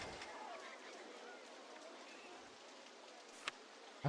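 Steady soft hiss of rain falling in the Rollercoaster Tycoon game, a constant wash of patter across the whole stretch with a couple of brief louder ticks near the end.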